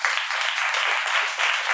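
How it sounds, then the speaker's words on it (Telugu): A church congregation clapping together during a sermon, a short burst of steady, dense clapping from many people with slight pulsing and no voices. "ఒకసారి అందరూ చప్పట్లు కొట్టండి"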